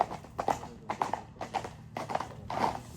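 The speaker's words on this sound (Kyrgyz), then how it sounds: "Сонун ат чыгып калды туугандар." A five-year-old horse moves with steady, rhythmic clip-clopping hoofbeats in regular bursts, fairly close and alone without talk.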